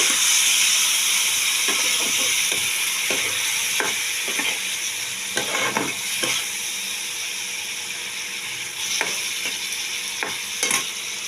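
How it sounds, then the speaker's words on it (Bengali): Tomato and fish sautéing in a pan with a little water, a steady loud sizzle and hiss, with scraping stirs breaking through at irregular moments. "আর দিয়ে দেবো একটু টমেটো একটু সামান্য জল দিয়ে এটাকে কষিয়ে নিতে হবে"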